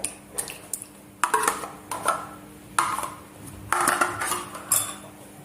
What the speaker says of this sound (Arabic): غادي نخلط هاد المكونات مزيان